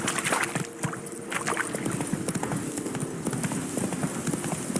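Roach the horse trots with steady clip-clop hoofbeats in The Witcher 3, rhythmic and close over a continuous watery, rushing ambience, with no talk.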